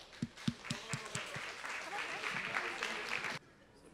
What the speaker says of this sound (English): Please welcome them with a warm welcome of applause.